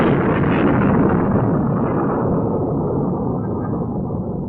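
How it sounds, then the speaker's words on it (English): A rocket lifts off as a sound effect in a narrated children's story record, a loud, continuous roaring rumble that holds steady and then slowly fades over several seconds, heard alone with no voices. "Rip waved goodbye as the children went into the rocket and it took off."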